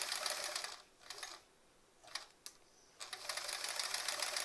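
A sewing machine stitches a quilt block in bursts, a fast buzzing run at the start, then short spurts between pauses, before a steady run resumes at the end; no talk.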